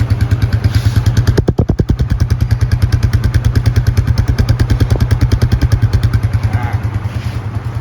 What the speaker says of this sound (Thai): เสียงท่อเดิมๆก็จะประมาณนี้ครับ